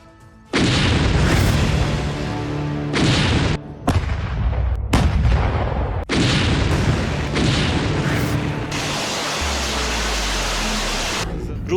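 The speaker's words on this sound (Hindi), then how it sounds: "हर तरफ से बमबारी चल रही है" Artillery bombardment in the Russia-Ukraine war rolls on as loud, dense booming explosions, one after another with only brief dips in between, close and overwhelming.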